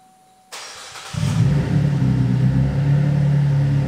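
A 2013 Buick Enclave engine starts and runs with its exhaust removed, a loud, steady, raw drone that builds after a short mechanical click and holds evenly to the end.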